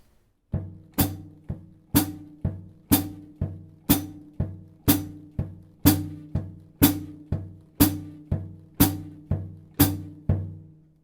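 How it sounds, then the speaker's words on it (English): A steady slow beat alternates soft low bass drum thumps with sharper, louder hi-hat chicks, evenly spaced and played alone at close range. "very light 4 to the bar on the bass drum with the hi-hat nice and strong and consistent"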